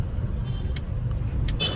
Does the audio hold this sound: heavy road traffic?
yes